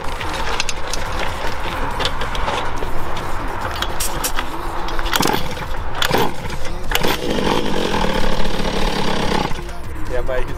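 Puch Maxi moped fitted with a new Athena AJH 70cc racing engine, running with a loud buzzing two-stroke rasp that rises and falls in revs, with people talking nearby.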